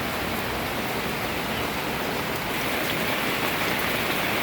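Steady rain hisses down on a rooftop garden, falling evenly on surfaces with a continuous wash of drops and no voices.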